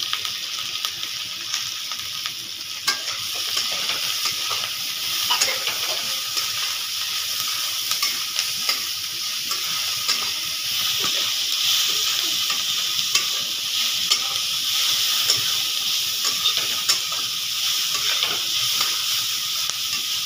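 Capsicum stir-fried in a pan for mixed chow mein gives a steady, close sizzle and hiss, broken by intermittent scraping stirs, lasting about twenty seconds with no talking.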